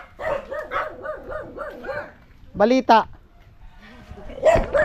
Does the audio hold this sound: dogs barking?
yes